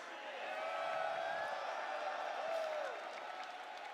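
A venue crowd at a Street Fighter 6 top 8 tournament event cheers and applauds, a sustained wash of noise with whoops that holds steady and loud for several seconds under faint talk.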